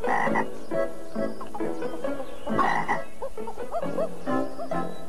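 Frogs croak in a steady series of rough, pulsing calls that run through the whole stretch, loud and close, with no talking over them.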